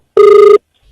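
A telephone ringing during a prank call, one short steady electronic ring tone lasting under half a second, loud and close, then silence.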